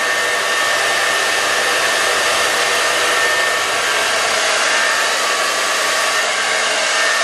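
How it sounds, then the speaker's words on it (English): A hair dryer blows steadily at close range during a salon blow-dry, a loud continuous airy whir that holds level without pause. "this is where the blow dryer can come into place and really protect your hair"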